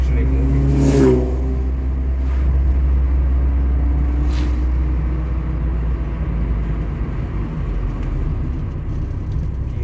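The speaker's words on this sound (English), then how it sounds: "Car is still cold, but it's performing much better. It's actually moving." A VW Golf Mk1 with a still-cold engine drives along, a steady low engine rumble and road noise continuing throughout at close range, with a brief rise in revs near the start.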